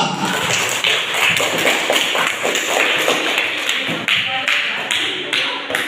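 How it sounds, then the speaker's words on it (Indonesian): Classroom applause from a group of schoolchildren at the end of a lesson, dense and steady throughout, a continuous patter of many clapping hands. "Luar biasa ya, tepuk tangan untuk kita semua."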